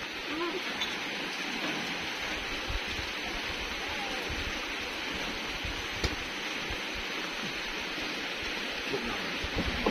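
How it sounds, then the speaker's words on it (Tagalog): Rain falls steadily in a constant soft hiss with occasional sharper drips, with faint voices underneath. "Ulan di ay?"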